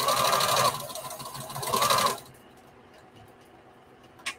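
A sewing machine stitches bandana panels for a patchwork T-shirt dress in two close, loud whirring runs, then stops, leaving quiet room tone and a small click.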